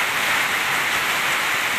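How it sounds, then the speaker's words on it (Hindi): Heavy rain pours down steadily in Cyprus during record downpours, a dense, continuous hiss of water on surfaces with no pauses and no voices, loud and close throughout. "इतनी तेज़ बारिश हो रही है ना"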